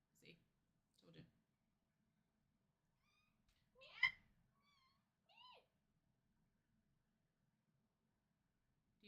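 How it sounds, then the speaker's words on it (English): A cat gives a few short, creaky meows near the listener, with quiet gaps between them, while a person speaks softly at the same time. "Do you hear her little creaky meows?"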